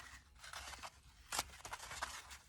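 Cardboard egg carton torn gently by hand to make flowers: soft, close ripping and crinkling in short bursts, with one sharper tear in the middle, quiet overall.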